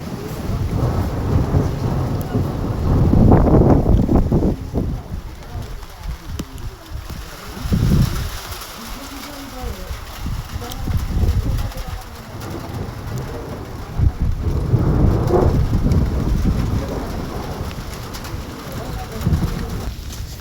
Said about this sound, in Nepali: जुम्लामा यस्तो भारी वर्षा भएको छ